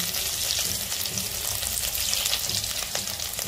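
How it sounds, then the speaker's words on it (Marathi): Crispy paneer rolls deep-frying in hot oil, a steady dense sizzle with crackling bursts, close and fairly loud throughout, no voices. "आता हे रोल आपण ह्यात तळून घेऊया. लगेच होतं क्रिस्पी रोल."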